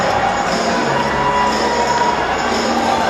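A basketball arena crowd during free throws at an MPBL game between Bacolod and Pampanga, a loud, steady roar of many voices with shouting and cheering throughout.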